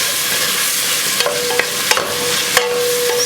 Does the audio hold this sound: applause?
no